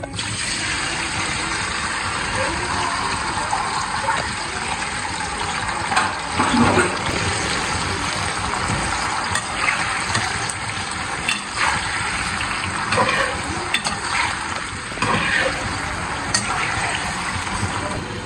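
Potatoes frying in oil already used for frying eggplant, a steady broad hiss of bubbling oil that carries on without a break, loud and close, with no talk over it.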